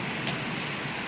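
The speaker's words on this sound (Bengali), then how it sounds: "খুব সুন্দর বৃষ্টি হচ্ছে" Rain falls steadily at night as a continuous even hiss, close and moderately loud, with no voices.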